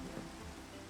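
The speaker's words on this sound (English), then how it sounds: "Every time I hit record, it starts raining." Steady rain falling in the Minecraft video game, a constant soft hiss of drops with no clear breaks, fairly quiet throughout.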